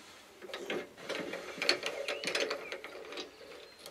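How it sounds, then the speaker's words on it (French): A screwdriver loosens a screw on a Citroën 2CV engine while the flywheel is held still: a few faint, close metallic clicks and scrapes with a slight grinding texture, and no voices. "Donc je veux desserrer, évidemment le volant moteur pendant ce temps laisse de tourner, je vais le bloquer avec mon autre tournevis."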